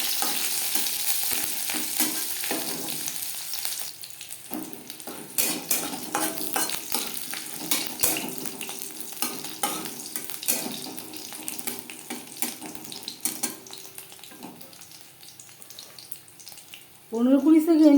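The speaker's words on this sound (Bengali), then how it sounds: "ফোড়নে দিয়ে দেব সামান্য পরিমাণে গোটা জিরে আর লাগছে চেরা কাঁচা লঙ্কা" Whole cumin seeds and a large slit green chilli fry in a little oil for a bhindi dish, a close, lively crackle and spatter that settles into a softer sizzle, ending with a sudden louder burst.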